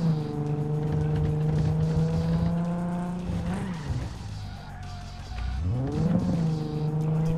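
A car drives in the video game Cyberpunk 2077 Phantom Liberty with a steady droning engine tone. Its pitch dips and swoops twice, with faint tire noise underneath.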